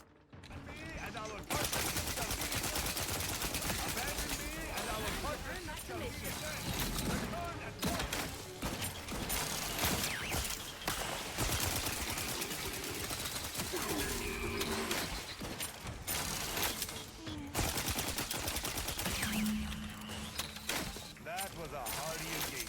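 Rapid gunfire from a weapon in the video game The Outer Worlds 2, dense bursts of shots with mechanical clatter running almost continuously, loud and close, with someone talking over parts of it.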